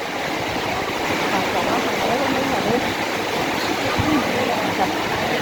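Steady, dense rain hisses continuously at a constant loudness at a market, with a soft voice briefly audible beneath it.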